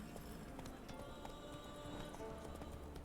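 Roach, the horse in The Witcher 3, trots with rhythmic clip-clopping hooves and a brief whinny, heard faintly within game sound.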